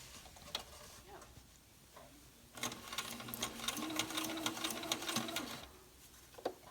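A sewing machine stitches elastic onto a fabric face mask. A few faint taps come first, then a run of quick, even stitching lasts several seconds before stopping, all close and fairly quiet.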